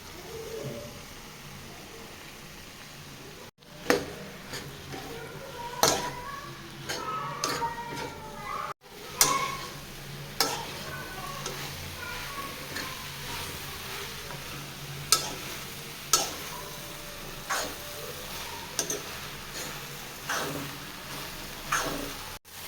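Puffed rice is tipped into a pan and stirred for a puffed-rice pulao, making a faint, crackly rustle broken by repeated sharp scraping knocks of the spoon.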